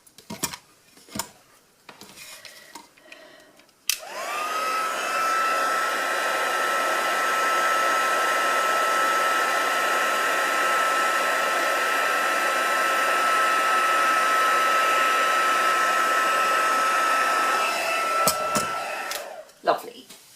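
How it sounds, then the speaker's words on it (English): A heat embossing tool blows hot air over a craft card piece, a steady loud whirring hiss that starts abruptly after a few seconds of light handling noises, holds for about fourteen seconds, then cuts off. "so that's all of the heat embossing done"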